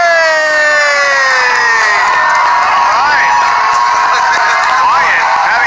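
A studio audience cheers and whoops loudly and continuously, with shrill shouts and whistles rising above the steady roar of the crowd.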